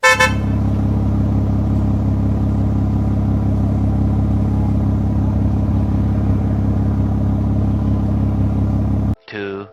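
School bus in the Roblox game Brookhaven: a steady, loud engine drone runs throughout, with a short horn toot at the start and another just as it cuts off at the end.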